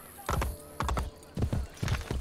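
Horse hooves clip-clop in a rhythmic trot across a street in the video game Assassin's Creed Brotherhood, steady repeating hoofbeats at moderate volume with no voice over them.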